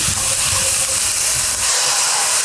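Cooking wine hitting a hot wok with cauliflower, bell pepper and mushrooms, giving a loud, steady, close sizzling hiss that fills the whole moment without pause.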